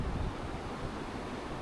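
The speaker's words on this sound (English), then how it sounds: "It's so windy." Strong wind roars steadily in Portugal, buffeting the microphone with a low, rushing noise and no voices.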